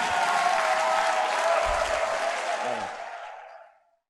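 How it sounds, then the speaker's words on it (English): A congregation applauds Prophet Boris at a church service. The steady, full clapping is sustained at an even level, then tapers off and stops at the end. "Applaudissez pour le prophète Boris."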